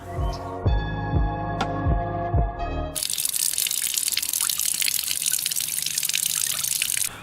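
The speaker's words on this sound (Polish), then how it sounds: "Dochodzimy do rzeki Tabor w Rymanowie Zdroju." The Tabor river in Rymanów-Zdrój flows as a steady broadband rush of water, loud and continuous. Tonal sounds come before it, and there are no voices.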